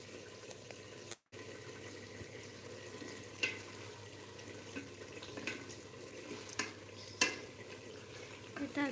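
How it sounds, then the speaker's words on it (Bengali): Bottle gourd greens (lau shak) fry in a pan and are stirred now and then, giving a soft, steady sizzle with occasional scrapes and clinks. There is no talk. "এটা হচ্ছে লাউ শাক রান্না হচ্ছে।"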